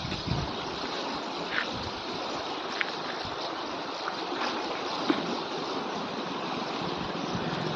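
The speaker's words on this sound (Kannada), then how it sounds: "ನೋಡಿ ಸ್ನೇಹಿತರೆ, ನೀರಿನ ಪ್ರವಾಹ ಭಾಳ ಇದೆ." Heavy floodwater rushing along a channel that feeds the Malaprabha river, a steady broadband roar of churning water with no pauses, loud and close throughout.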